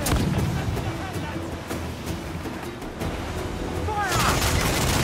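Cannon fire during a naval ship battle in Assassin's Creed 4: heavy, rumbling booms and a dense volley of blasts over a continuous roar of sea and battle noise, with shouted voices mixed in.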